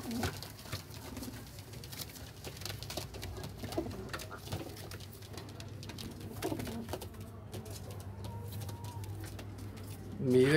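Young flying pigeons coo softly in a sale loft. The low, repeated calls sit under faint background rustling and murmuring.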